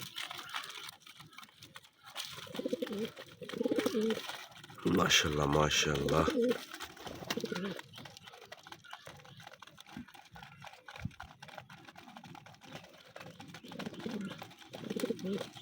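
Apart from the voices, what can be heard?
pigeons cooing at a pigeon farm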